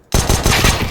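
Pistol fire in the video game Counter-Strike: Global Offensive cuts in from silence with a loud, rapid string of about five close, punchy shots in quick rhythm.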